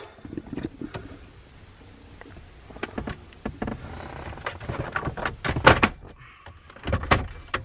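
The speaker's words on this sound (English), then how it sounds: "take a good firm grasp on your dash here, and it should pop off" A plastic dashboard trim panel pried off a 2010 Dodge Ram pickup: close, irregular creaks, clicks and rattles as the panel is worked loose, with a sharp snapping pop near the later part and more clatter after.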